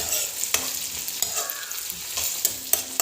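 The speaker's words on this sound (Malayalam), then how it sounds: "ഒരു 10-15 സെക്കൻഡ് ഒന്ന് ജസ്റ്റ് ഇളക്കിയാൽ മതി, ഇല്ലെങ്കിൽ കരിഞ്ഞു പോകും വെളുത്തുള്ളി" Garlic fries in a pan for a Kerala-style dal curry, a soft steady sizzle broken by sharp, regular scrapes of a spoon stirring it, close and fairly quiet.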